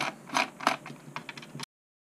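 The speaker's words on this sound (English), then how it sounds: "That is all 8 screws taken off." Small M3 screws are backed out of a DRL Racer 3 drone frame with a close, quiet series of ratcheting, clicking turns and light mechanical ticks that stop abruptly.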